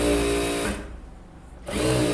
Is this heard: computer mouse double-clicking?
no